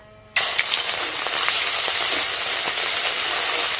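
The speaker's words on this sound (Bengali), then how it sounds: "পাঁচ ফোড়নগুলো যখন এরকম লাল লাল করে ভাজা হয়ে যাবে তখন দিয়ে দেবো আদা বাটা" Panch phoron spices frying in hot oil for a stuffed-fish dish, a sudden loud sizzle that starts after a short quiet moment and continues as a dense, steady crackle with no talk over it.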